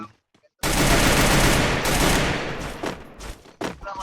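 Rapid gunfire rings out in a shooter video game: a sudden, loud, sustained burst of shots, then a few shorter bursts and single cracks as it tapers off.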